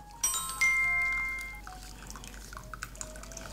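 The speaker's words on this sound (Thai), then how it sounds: "ให้เราใช้ที่คีบครับมาพยายามบีบเอาน้ำชาออกจากใบชาให้หมดได้เลยนะครับ" Brewed tea squeezed from tea leaves with tongs, first a couple of sharp clinks, then a thin stream of liquid dripping and trickling softly into a container, close and quiet.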